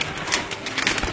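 Racing pigeons on a city rooftop in breeding season give a brief, close burst of throaty cooing and fluttering bird noise.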